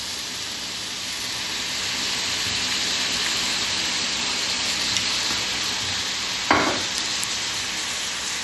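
Minced meat frying in olive oil, a dense steady sizzle with crackling pops throughout and a brief clink of a utensil near the end; no talking.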